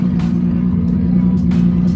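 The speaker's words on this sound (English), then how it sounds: "Probably like the loudest freaking car I've ever heard." A loud Nissan GT-R drift build, one of many R32, R33 and R35 GT-Rs gathered, with a steady deep engine drone throughout and bursts of crowd noise and voices over it.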